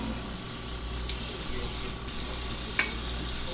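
Brussels sprouts in a skillet give off a steady hiss of sizzling with light stirring scrapes as water is added, then a brief sharp clink, close and continuous with no talking.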